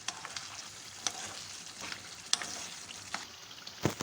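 Paya (trotters) frying in a pan, with a steady, quiet sizzle broken by several sharp crackles and spatters and light stirring scrapes.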